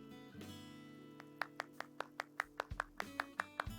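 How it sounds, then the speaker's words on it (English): Hands clap in a short, uneven series of sharp, close claps over a quiet tonal background, about a dozen in total. "Clap, clap, clap."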